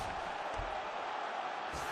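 A UFC arena crowd roars steadily throughout a grappling exchange, a dense, sustained wash of cheering with a few low thumps mixed in.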